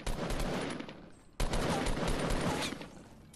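Rapid bursts of automatic gunfire in Fortnite Battle Royale, two dense rattling volleys separated by a brief pause, loud and close.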